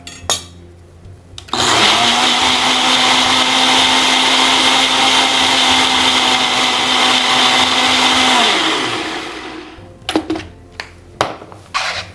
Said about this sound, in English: Into the blender, and now we're just going to puree it.